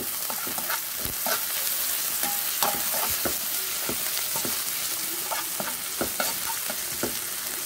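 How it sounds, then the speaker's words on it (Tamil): Garlic and green chillies sauté in oil in a pan with a continuous close sizzle, punctuated by frequent spatula stirs and scrapes against the metal; no speech. "மூணு பல் பூண்டு போடுறேன் இந்த மாதிரி நல்லா வதக்கி விட்டுருங்க"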